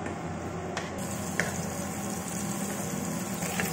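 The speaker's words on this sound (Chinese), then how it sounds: "倒入葱爆香" Scallions stir-frying in hot oil in a wok, a steady close sizzle with faint scraping and a couple of light clicks, no voices.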